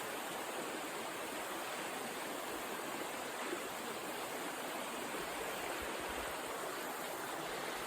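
A stream at a fishing spot flows in a steady, even rush of water, soft and unbroken for the whole stretch with no voices over it.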